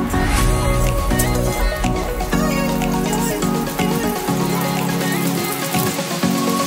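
An aloo paratha fries in a pan with a loud, close, continuous crackling sizzle like heavy rain, steady throughout.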